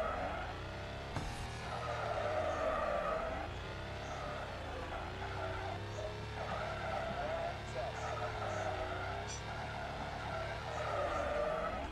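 Tires skid and squeal on a drifting car in the Extreme Drift 2 mobile racing game, with long wavering screeches rising and falling over a steady engine drone throughout.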